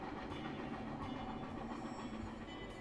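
Train in the video game The Cat Lady rumbling past, a continuous low rolling noise with faint rhythmic clatter, steady and fairly distant, with no voices.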